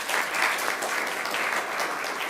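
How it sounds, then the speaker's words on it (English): An audience at a Kenya software summit breakfast applauds a woman from an Africa development center, a full, continuous burst of many hands clapping at steady loudness with no speech over it. "let's clap for this lady"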